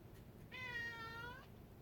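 A cat gives a single drawn-out meow lasting about a second, faint and distant against a quiet background hiss.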